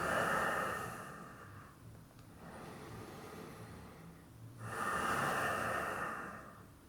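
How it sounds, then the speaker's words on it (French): Deep breaths drawn in and let out during a bodyweight yoga flow, moving through downward dog: a long, close exhale at the start, a quieter stretch in the middle, then another full airy breath near the end, with no talking. "Une respiration complète ici."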